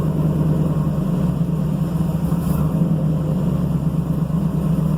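A newly built engine idles just after its first start, giving a loud, steady low rumble that holds even throughout without revving or voices.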